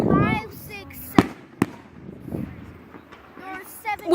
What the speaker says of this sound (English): So we can hear fireworks from across the street.